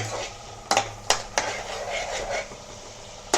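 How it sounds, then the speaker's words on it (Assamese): Green peas frying in melted butter in a pan for pav bhaji, a soft sizzle broken by several sharp clanks of a spoon stirring against the pan. "বাটাৰটো গলি গৈছে এতিয়া মই মটৰখিনি ভাজি দিম"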